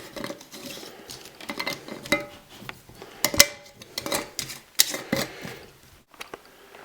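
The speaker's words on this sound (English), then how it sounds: "We're going to put the lid on." A lid is fitted and screwed onto a jar of plant extract, producing a series of close, irregular clicks, taps and scraping clatters with short pauses between them.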